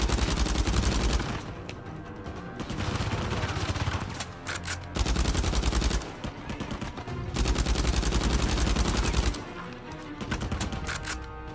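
Gunfire in Uncharted 4, with loud bursts of rapid automatic fire that repeat in several long volleys broken by short pauses.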